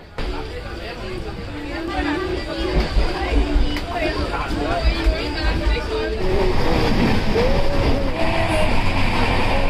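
A moving passenger train rumbles and rattles from inside the carriage, a steady, loud clatter that grows slightly louder toward the end, with crowd chatter and voices mixed in.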